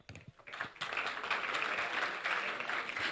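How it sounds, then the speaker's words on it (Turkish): Audience applause swells at an awards gala, starting with a few scattered claps and building into sustained, dense clapping from a large crowd, heard at a moderate distance. "Neden ödülleri biliyormuş gibi alkışlıyorsunuz?"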